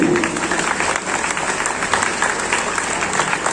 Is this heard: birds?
no